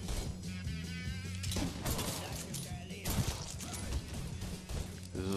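Gunfire crackles through a shootout in Mafia 3, a dense, steady barrage of shots with mechanical clatter and game music underneath, loud and continuous throughout.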